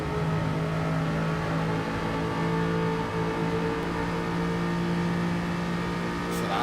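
A Ferrari Group 4 race car in Gran Turismo 7 drones through a sustained engine note on Grand Valley Highway, a steady mid-level tone holding pitch with a faint rise at the very end, no talk over it.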